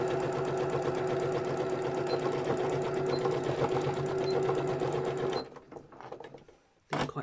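A sewing machine stitches Gelli print fabric for a journal in a steady, rapid, close-up whir, then stops, followed by a few soft handling sounds and a brief final burst of stitching.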